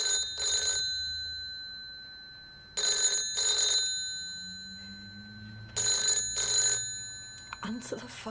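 An unanswered telephone in a hostage scene from a British TV soap rings in three paired bursts with long gaps between them, loud and electronic, while low voices murmur faintly underneath.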